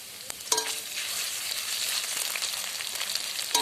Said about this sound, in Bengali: আদা রসুন বাটাটাকেও পেঁয়াজের সাথে একটু ভাজা ভাজা করে নেব